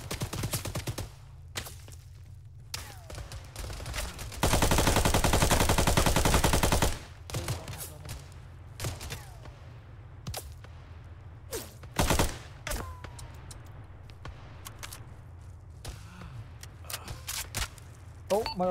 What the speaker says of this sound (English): My weapon is cooking off.